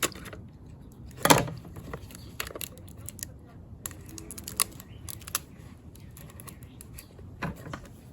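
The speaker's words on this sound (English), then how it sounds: "Keep making little snips," Scissors make a series of small, sharp snips through copper contact paper, irregular close clicks with one louder cut near the start and quieter handling noises between.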